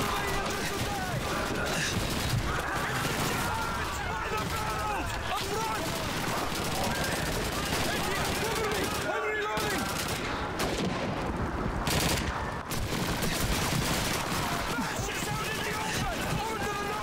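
Sustained gunfire from the World War II shooter Call of Duty 2 on Veteran difficulty: loud, dense and continuous shots and bursts that fill the whole stretch without letting up.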